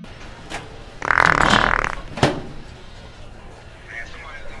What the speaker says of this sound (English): You just farted in my face.